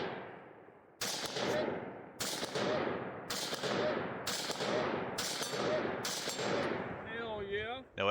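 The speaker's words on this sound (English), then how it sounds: "So I continue shooting" Rapid gunfire on a two-gun competition stage, with six or seven sharp, loud shots or quick bursts spaced about a second apart and a brief metallic rattle at the end.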